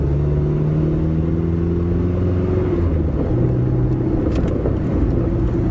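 A carbureted car engine without an accelerator pump idles steadily, then rises in pitch as it pulls away, a close, continuous rumble with no talking.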